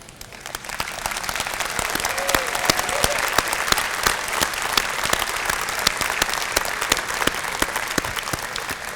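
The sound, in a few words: applause for Hall of Fame members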